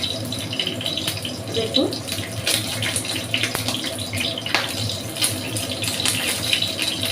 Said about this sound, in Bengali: তো দেখুন সবগুলো এইভাবে আমি তেলের মধ্যে দিয়ে দিচ্ছি।